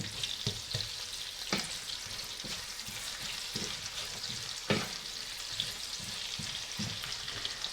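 Steady sizzling of food frying in a pan with salt, with irregular scrapes and knocks from stirring running throughout and no talking.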